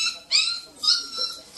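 A stray dog with puppies, roaming a harbour dock, whimpers in three short high-pitched whines spaced about half a second apart, close and fairly clear.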